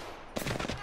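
A quick burst of rapid automatic gunfire from a video game, close and sharp, after a moment of quiet background.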